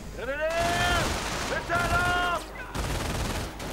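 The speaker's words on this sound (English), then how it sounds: "that burst of MG fire actually did any damage" Machine gun bursts crackle in a 1v1 strategy video game, rapid fusillades of gunfire heard under a voice talking over the action.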